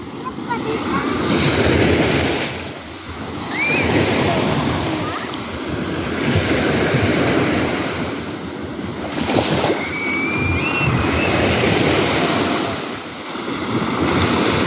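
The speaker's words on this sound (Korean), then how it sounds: "파도. 맞아." Ocean waves surging and breaking on a steep beach, loud rolling crashes that rise and fall in repeated swells, with wind buffeting the microphone and brief voices in the background.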